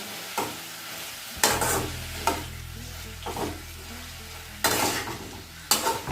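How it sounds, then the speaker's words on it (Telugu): A capsicum masala curry with curry leaves sizzles in a pan while being stirred, with a steady frying hiss broken by several loud scraping strokes of the spatula. "ఈ విధంగా నాలుగు వైపులా కలుపుకోవాలి"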